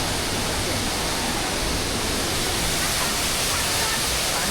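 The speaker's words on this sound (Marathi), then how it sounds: "पाण्याचा फ्लो भरपूर आहे." A waterfall with a strong flow of water on the trail to Ghodkhind (Pawankhind) in the Sahyadri hills, heard as a loud, steady, broadband roar that never lets up.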